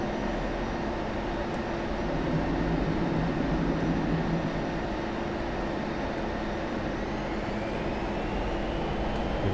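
Steady roar of an F-16 jet engine pulling into a vertical climb during an airshow routine in DCS flight simulation, a broad continuous rumble with a faint rising whine, loud and unbroken.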